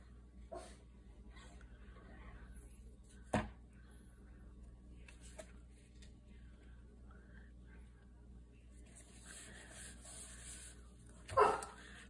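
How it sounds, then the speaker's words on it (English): A dog gives two short, separate barks indoors, one early and one near the end, over a quiet room hum with faint background sounds. "I knew he'd get a bark in there."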